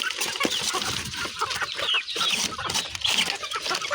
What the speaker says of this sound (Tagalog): So ayan yung ating mga manok, pakakawalan natin ito para makakain sila ng maayos.